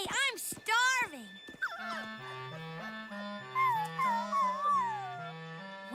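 Cartoon puppies whimper and howl in a series of rising and falling cries, close and fairly loud, with brief bursts of yipping and soft background music.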